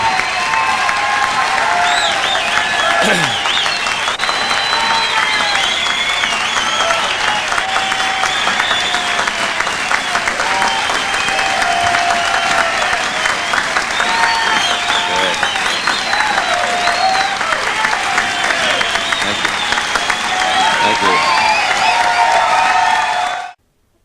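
A live audience breaks into loud, sustained applause mixed with cheering and scattered whoops, a dense roar of clapping that holds steady for over twenty seconds and then cuts off sharply.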